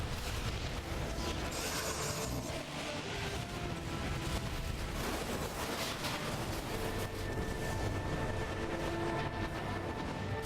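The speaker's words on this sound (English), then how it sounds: "I like how that train feels alive." A train rumbles by with steady clattering and rushing noise, accompanied by a continuous whine in the Final Fantasy XIII video game, dense and unbroken for about ten seconds with no talking.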